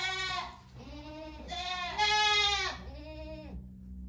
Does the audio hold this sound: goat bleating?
yes